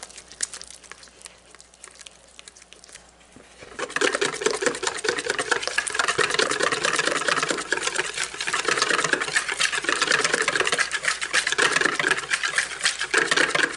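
Spelt bread ingredients and flour are mixed in a bowl, starting quiet and then turning into a steady, scratchy stirring and scraping that continues without talk.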